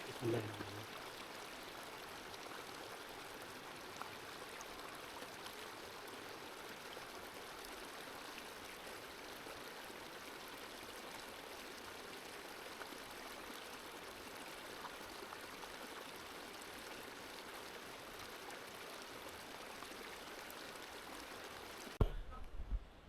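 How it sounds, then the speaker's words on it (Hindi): Mountain spring water flows continuously in Taobut Valley, Kashmir, a soft steady stream trickle at moderate distance, with a brief knock near the end. "अभी मैं पानी पीने लगा हूँ, मुझे बड़ी क्यूरियोसिटी है चश्मों का पानी पीने की"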